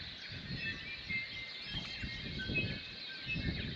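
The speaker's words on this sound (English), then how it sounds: "What incredible bird song." Several birds sing in the morning at Cockle Cove in New Zealand's Marlborough Sounds, faint in the distance, thin high calls overlapping above a soft, low outdoor rumble.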